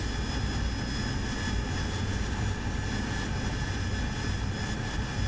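AV-8B Harrier jet engine running steadily on a runway in the DCS flight simulator, a loud continuous roar with a high whine, unbroken throughout with no talk.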